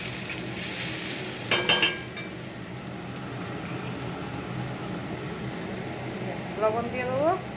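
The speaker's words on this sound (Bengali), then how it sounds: "আগে একটু মশলাটা দেবো, মশলাটা দিয়ে মশলাটা ভেজে নেব" Spices frying in a pan with ginger and cumin for a vegetarian dish of soybean, potato and papaya, a soft steady sizzle with a brief clatter of a utensil, while someone talks over it.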